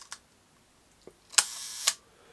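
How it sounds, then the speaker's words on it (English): Shutter of a Lily 8x10.5cm folding plate camera fires at half a second: a faint click of cocking or setting, then two crisp close mechanical snaps about half a second apart marking the opening and closing, in a quiet room. "Go to half a second, cock the shutter."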